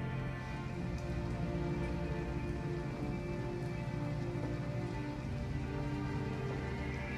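Steady rain falls in the video game Detroit: Become Human, an even, constant hiss of drops on surfaces mixed with a low ambient hum from the game's soundtrack.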